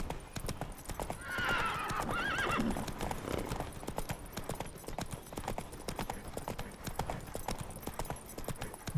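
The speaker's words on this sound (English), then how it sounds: "Oh, there's some wild horses here." Wild horses in the video game Witcher 3 clop their hooves in a quick, uneven rhythm while a loud neigh and whinny rise near the start, the hoofbeats continuing steadily afterward.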